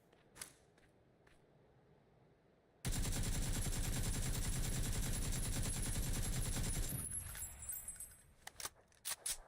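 An AK rifle in PUBG fires a sustained full-auto burst of about four seconds, loud and dense. It follows scattered clicks and ends in a few sharp trailing shots and rattles.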